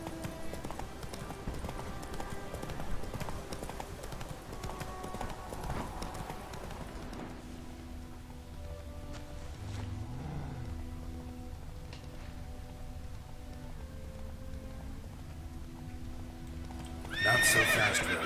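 Roach, the horse in The Witcher 3: Wild Hunt, gallops with steady clip-clopping hoofbeats through the whole stretch, and near the end a loud, bright neigh rises over the running.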